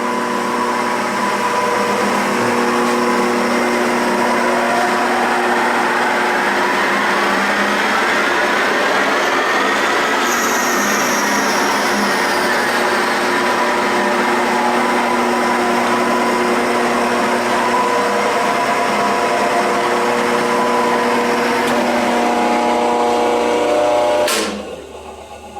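An Excello Model 602 vertical ram turret mill runs with a steady, smooth mechanical hum and layered tonal whine, a brief rising shift midway, alone and fairly loud until it winds down near the end.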